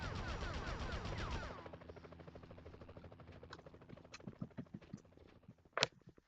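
Police gunfire in the 2000 Spider-Man video game: a dense, loud burst of shooting at first, then scattered, crackling shots and sharp pops.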